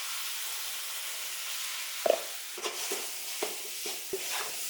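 Ginger garlic paste sautés in a hot pan with a steady soft sizzle, punctuated by a few light scrapes and taps of a spoon stirring, close and quiet with no talking.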